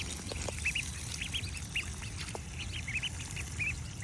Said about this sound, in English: I'm feeling less and less certain that that one on the far left is a runner duck